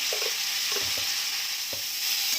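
Beans sauté in a pan with a loud, steady sizzle and a few quick scraping stirs as salt is added.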